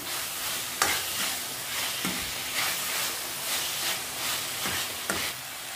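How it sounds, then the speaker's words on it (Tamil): Tomatoes sautéing in a pan for a village-style chicken curry, a soft steady sizzle broken by several distinct scraping stirs at uneven intervals. "இதை நல்லா மிக்ஸ் பண்ணி விடுங்க. தக்காளி ஓரளவு வதங்கினா போதும்."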